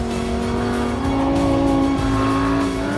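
An Audi R8 V10 Plus prototype on a test drive, its ten-cylinder engine droning steadily from inside the car with a smooth, even tone and no talk.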